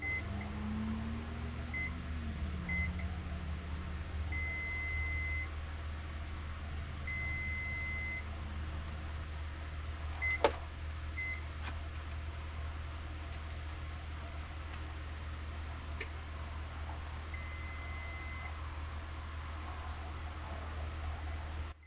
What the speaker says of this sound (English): they try to turn on with a beep, and sometimes show the display after several times like it's doing here